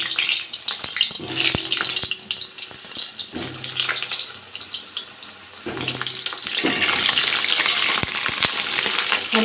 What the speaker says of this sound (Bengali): আমি এবার আলুগুলো ভেজে নেব।